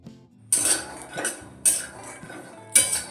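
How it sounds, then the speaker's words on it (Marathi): Peanuts dry-roasting in a pan over high heat, stirred in three sharp rattling bursts of nuts and metal utensil against the pan, each fading out, close and fairly loud. "शेंगदाणे चांगले खमंग भाजून घ्यायचे आहेत आता हे चांगले भाजून घेऊ गॅस वाढवून ठेवायचा आहे"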